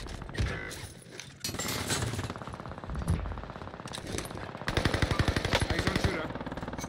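Rapid automatic gunfire in the video game Call of Duty, loud bursts crackling through dense battle noise, with a sharper rhythmic volley near the end.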